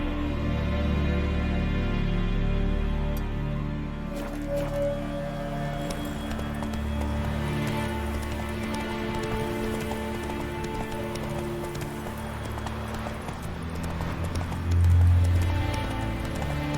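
Roach, Geralt's horse in The Witcher 3, clip-clops along steadily at moderate distance, hoofbeats running under rain patter and layered game music.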